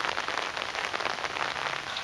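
Steady rain falls outside, a dense, even patter on surfaces that continues unbroken and fairly close throughout.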